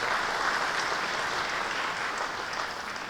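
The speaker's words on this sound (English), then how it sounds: "So let's give them a round of applause." A roomful of people at a Chamber of Commerce meeting clapping, a dense steady round of applause that fades slightly toward the end.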